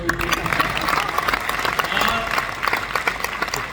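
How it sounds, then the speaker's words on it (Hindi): A crowd at a Hindi poetry recitation claps steadily throughout, a thick wash of applause with some voices mixed in underneath. "तालियां बजा दो।"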